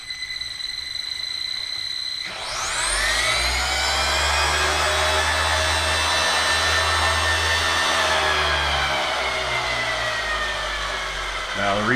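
A brushless RC car motor spins up on a chassis dyno from a rolling start, its electric whine sweeping upward and then holding a loud, steady high-pitched scream with a deep rumble beneath.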